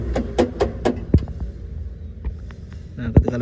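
Rear of a Toyota Calya with no spare tire fitted, rattling and knocking while driving over an uneven road: a run of sharp, fairly close thuds and clunks at irregular intervals over a low cabin hum, with no talk.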